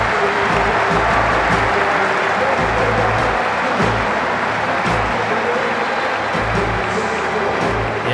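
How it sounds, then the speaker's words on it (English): Steady, loud applause from the crowd at the MCG greets a Test cricket century on Boxing Day, with commentary voices over the ovation. "Wonderful ovation from the members in the outer."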